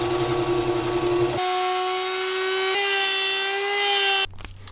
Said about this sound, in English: I'm going to test the router table and my idea on this piece of poplar